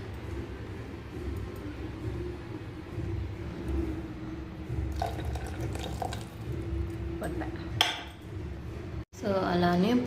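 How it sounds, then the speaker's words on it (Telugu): Water splashes into a pot of tomato rasam during cooking, a soft continuous pour with brief clinks of utensils and a louder splash near the end, heard close. "సో అలానే పులుపుకు తగ్గట్టుగా వాటర్ కూడా వేసుకుంటున్నాను."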